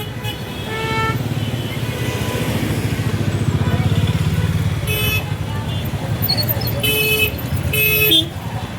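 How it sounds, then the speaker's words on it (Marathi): Mumbai street traffic near Mahalaxmi station rumbles steadily with motorcycles and cars passing, while several short horn toots sound near the end, under background chatter. "काय आहे ट्रॅफिक"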